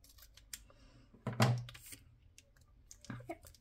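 Scissors cutting paper while setting up a B6 planner page, giving a few crisp, close snips and clicks, with one cluster of cuts and another brief snip later.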